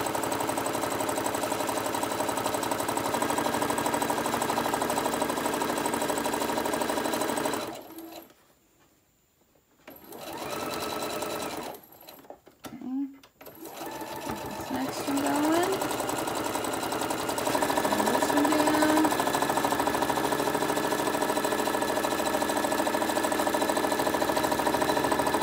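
A sewing machine stitches the seams of a lunch tote bag in steady buzzing runs, broken by two near-silent gaps midway, with a voice talking at points and a few short squeaks late on.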